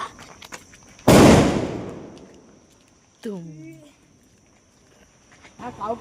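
One sharp firecracker bang goes off close by at a family celebration and rings out into a fading hiss. A voice and short calls follow in the quiet that comes after.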